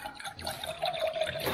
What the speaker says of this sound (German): Und jetzt Wasser hier reinkippen.